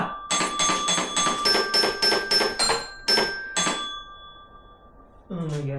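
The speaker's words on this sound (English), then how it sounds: "First song with 4 bells." Four programmed bells ring out Hot Cross Buns as a series of bright, ringing strikes in a steady rhythm with short gaps. The last tones fade, and then a voice begins speaking.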